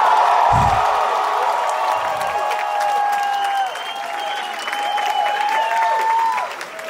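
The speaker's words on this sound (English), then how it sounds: "The crowd, there's 500 people going, Rudy!" A live stand-up comedy crowd of about 500 people applauds and cheers loudly in a dense, continuous roar. Scattered whoops rise above it, and the noise fades a little partway through before building again.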